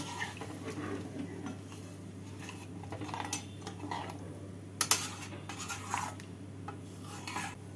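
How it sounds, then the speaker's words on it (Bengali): Utensil scraping and rubbing in a pan as fish and potato curry with rui fish is stirred after water goes in, soft repeated scrapes with a sharper clink near the middle, close and alone. "জল দিয়ে নাড়াচাড়া করে নেব"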